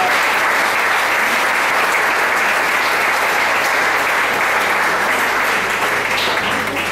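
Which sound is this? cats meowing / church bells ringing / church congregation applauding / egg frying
church congregation applauding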